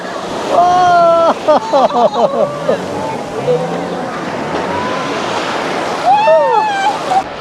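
Surf washes steadily onto the beach at Cox's Bazar, a constant rushing wash beneath lively voices of people talking and calling out nearby.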